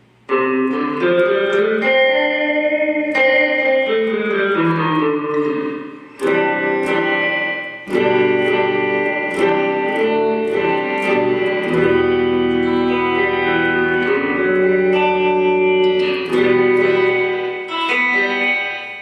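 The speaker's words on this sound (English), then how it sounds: "I will turn the level up all the way so you can hear what it is like with just the reverb" Guitar chords and picked notes sound through a Mooer Shimverb reverb pedal in spring mode with the level turned fully up, each phrase washing into long, shimmering, metallic tails that overlap; no one speaks.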